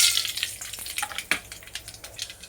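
Mustard seeds and fenugreek seeds crackle and sizzle in hot cooking oil in a home kitchen, a steady close hiss with scattered sharp pops throughout.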